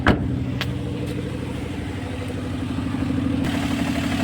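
Car engine with a faulty ignition coil or spark plug idles nearby, a steady loud rumble with uneven, stumbling misfire pulses throughout.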